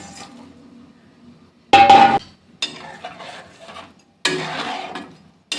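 A spatula scrapes and clinks in a pan as fried cauliflower for chilli cauliflower is tossed with water and a mixed sauce, in three loud, close bursts separated by quieter rustling.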